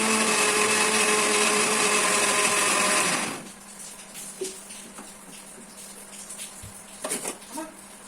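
A mixer grinder whirs loudly for about three seconds while grinding chutney, then cuts off, leaving faint clinks and handling noises.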